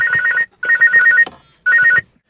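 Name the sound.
phone call ringing over car Bluetooth hands-free in 2011 Ford Fiesta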